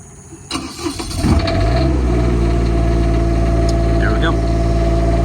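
An Onan diesel generator on a Country Coach motorhome cranks, catches and settles into a loud, steady running drone close by, with a faint voice talking briefly under it.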